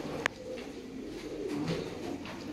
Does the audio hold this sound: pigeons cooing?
yes